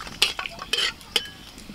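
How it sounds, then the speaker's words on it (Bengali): Bay leaf, cardamom, cinnamon and cloves fry in oil in a cooking pot, with a low sizzle under a few sharp spoon scrapes and clinks close by, and no voices. "তেলের মধ্যে ফোড়নে দিচ্ছি তেজপাতা,"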